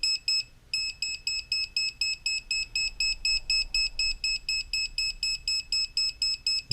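An AC voltage tester pen held near a power outlet gives a rapid, steady train of high-pitched electronic beeps, about three per second, close and clear with no talking.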